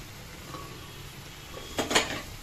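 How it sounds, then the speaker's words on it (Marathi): Cooked chickpeas tipped into a pan while making chole, a short, soft clatter and rattle near the end against a quiet kitchen background. "तर आपण हे छोले आता यात टाकूया ह्या स्टेजला."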